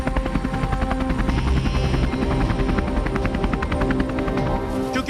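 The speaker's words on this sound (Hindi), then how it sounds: "अमेरिकी हेलीकॉप्टर में सवार होकर तालिबानी काबुल का हवाई सर्वे कर रहे हैं।" An American-made helicopter flies over Kabul with a steady, loud rotor chop and whining turbine hum that stays close and constant throughout, with no voices.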